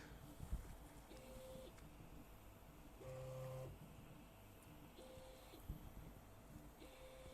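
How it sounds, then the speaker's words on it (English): An Original Prusa Mini 3D printer runs nearby, giving a low, steady mechanical hum with repeated short tonal stepper-motor whines and occasional soft clicks. "Can you hear this printer on the microphone?"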